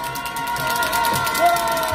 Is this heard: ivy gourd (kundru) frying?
no